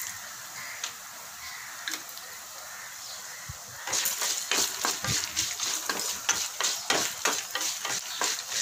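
Masala for Madurai-style mutton kulambu fries in a pan: a quiet hiss with scattered scrapes gives way to loud, crackling sizzling and repeated spoon-stirring strokes in the second half.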